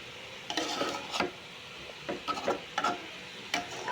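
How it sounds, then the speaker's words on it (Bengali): Radish greens stir-fry in a pan as a spatula scrapes and stirs in irregular bursts over a soft background sizzle, close and fairly quiet. "মূলার শাক ভাজাও শেষ"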